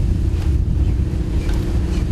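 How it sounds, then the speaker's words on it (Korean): Strong wind and rough waves batter an anchovy fishing boat at sea off Busan, making a steady, loud roar of wind and water that continues without a break and with no voices. "배가 파도에 심하게 흔들릴 뿐 아니라 바람을 견디면서 중심을 잡아야 하기 때문에"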